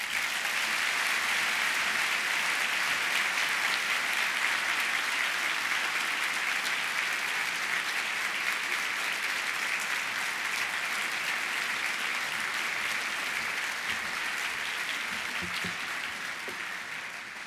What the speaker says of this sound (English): Let's give both Kevin and Rich another round of applause.